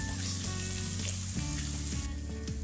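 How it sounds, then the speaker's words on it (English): Onions fry with half a teaspoon of salt in a pan, giving a steady close sizzle and crackle with a few soft stirring scrapes, and no voices. "fry the onions till the color changes. And the frying, I'm gonna add half a teaspoon of salt in this, and let it fry for 2 to 3 minutes."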